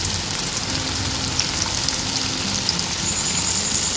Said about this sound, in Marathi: आपण इथे छोट्या छोट्या आकारात भज्यांसारखे वडे तळून घेत आहोत